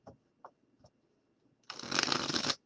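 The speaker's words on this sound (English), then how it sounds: "I think we shuffled enough times" Tarot cards riffled in a brisk, close shuffle that lasts about a second, after a few soft taps and handling noises in an otherwise quiet room.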